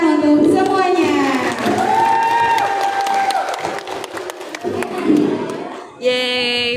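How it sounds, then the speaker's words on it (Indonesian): Applause and cheering from an audience at a Red Cross quiz competition final, with shouts and a loud sustained voice over dense clapping, rising again sharply near the end. "Tepuk tangan untuk semuanya."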